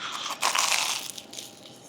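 Biting into a crispy freshly fried snack on a Saigon street in the early morning gives one loud crackling crunch up close, followed by fainter chewing crunches that fade out.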